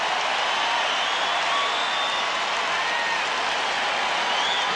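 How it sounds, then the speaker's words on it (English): A dense, continuous stadium crowd roar fills the air at a 1989 Phoenix at Seattle football game after an interception, a loud, even wash of cheering that holds steady from start to finish. "And that brings the crowd alive."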